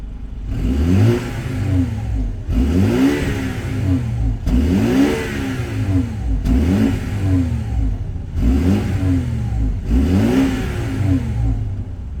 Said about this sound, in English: let's have a listen to this B48. I've had the car running now, and let's put it in Sport Plus.